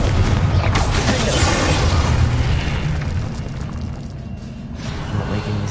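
A Confringo fire-spell explosion in the video game Hogwarts Legacy: a loud, dense booming burst that stays heavy for several seconds and then thins slightly, with no speech over it.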